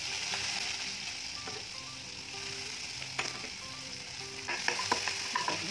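Chopped onion sizzles in hot oil with already-crackled cumin seeds, the base for a potato and fenugreek-leaf curry. A close, even frying hiss holds throughout, with occasional light clinks of a spoon stirring the pan.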